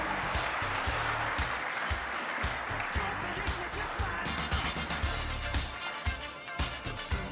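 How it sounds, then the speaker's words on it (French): An audience applauds at the Trophées Ambition Industrie du Futur 2017 awards ceremony, sustained dense clapping filling the hall throughout, with a voice speaking over it. "Je vous propose de les applaudir très fort."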